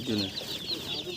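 Baby chickens in a Sundarbans village during the monsoon cheep in quick, high, repeated peeps, close and fairly faint, with a low voice murmuring underneath.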